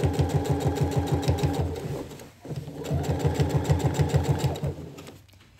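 Sewing machine stitching backtack stitches on a garment, a close rapid mechanical chatter running in a steady burst, pausing briefly, then resuming for another run before stopping.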